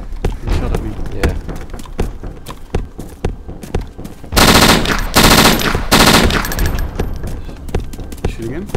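Gunfire in the DayZ Standalone video game, with single shots and a loud, dense automatic burst in the middle, sharp and close, while a person talks over parts of it.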